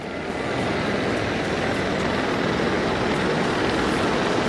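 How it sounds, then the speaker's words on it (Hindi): Mi-35 gunship helicopters fly in formation over a national day military parade in Islamabad, a loud, dense, steady roar of rotors and engines that swells slightly at the start and then holds constant. "anti tank guided missiles, rockets, double barrel gun से लैस MI-35 गनशिप हेलीकॉप्टर्स की फॉर्मेशन"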